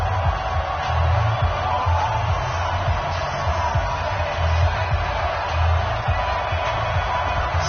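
A steady, muffled roar rises from an NFL stadium crowd at a Minnesota Vikings versus Detroit Lions game, with a continuous wash of cheering and murmur that swells slightly at times.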